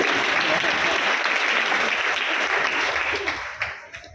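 Audience clapping at a Sunday Jain sermon by a monk in Shirpur, a steady, dense applause that carries on for several seconds before tapering off near the end, with some voices mixed in.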